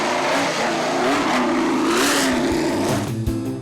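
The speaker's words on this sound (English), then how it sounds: "Driving off in Clark's black helmet, a 1965 Indy 500 winning car, the Lotus 38" A 1965 Lotus 38, the Indy 500-winning racing car, pulls away at Goodwood, its engine revving loud and close in one continuous roar that climbs and swells in pitch before easing slightly at the end.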